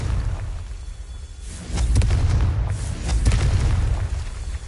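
Confringo explosive spell being cast in Hogwarts Legacy, heard as two or three deep booming blasts with whooshing bursts, close and loud over a low rumbling game soundscape.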